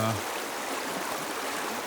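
River water rushes steadily over the dam section of a Native American stone fishweir on the Yadkin River, a broad, continuous outdoor wash of flowing water.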